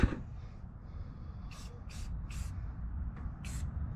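Short hissing bursts of undercoating spray hit a 1994 Flxible Metro D bus, several quick spurts in a row over a low background hum.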